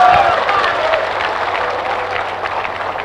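An audience at a religious question-and-answer lecture breaks into sustained applause, a loud dense wash of clapping that slowly fades, with a voice briefly audible at the start.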